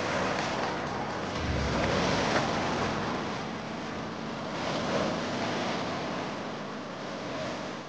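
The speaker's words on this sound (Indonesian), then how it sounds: "menikmati suasana hingga mendengarkan suara desir ombak" Ocean waves wash over a sandbar beach on Muna Island, a steady broadband surf roar with gentle swells and wind, no voices.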